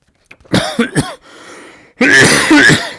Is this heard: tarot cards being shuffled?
no